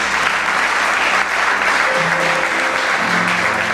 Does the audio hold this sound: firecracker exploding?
no